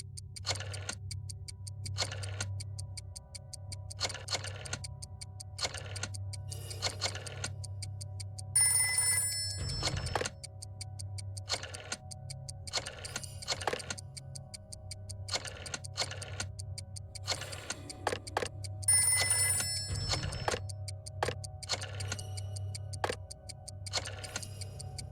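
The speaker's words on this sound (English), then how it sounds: "Dial one of these numbers on your rotary phone before anyone else" In the Jackbox Party Pack 6 video game, a rotary phone dial clicks in quick ticking bursts, and two short bright telephone rings cut in, all fairly faint against a low steady hum.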